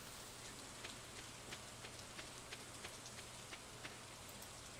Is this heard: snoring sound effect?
no